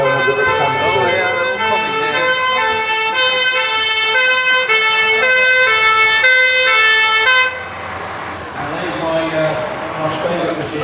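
Vintage British ambulance siren at a transport museum wails in a steady two-tone cycle, loud and close, then cuts off and leaves background noise with a faint voice.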